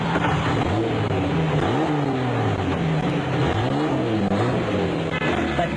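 Off-road race cars in Botswana's Toyota 1000 desert race roar past one after another, engines rising and falling in pitch as they approach and pass, loud and close throughout.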